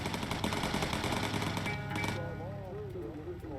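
Rapid machine-gun fire from bomber gunners rattles in the Bomber Crew video game, fairly quiet and continuous for about two seconds before fading into softer game sounds and a rising-and-falling tone.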